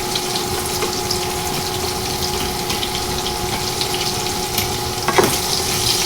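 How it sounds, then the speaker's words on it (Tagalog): Onion and garlic frying with browned pork in a pan for adobong sitaw, a steady close crackling sizzle running evenly throughout with no talk. "Lagyan na po natin yung ating sibuyas at bawang."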